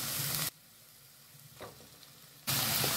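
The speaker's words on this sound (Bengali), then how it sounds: "পেঁয়াজগুলো হালকা ফ্রাই হয়ে গেলে এবার দিয়ে দিচ্ছি ব্লেন্ড করা পেঁয়াজগুলো" Blended onions go into lightly fried onions in a pan with a little oil for hilsa do-pyaza, giving a loud, dense sizzle at the start and end, broken by a quieter stretch in the middle.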